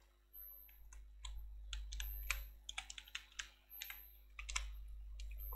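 Someone types an email address on a computer keyboard, bursts of close, crisp key clicks in irregular clusters with a short rapid run in the middle, over a low steady hum and no speech.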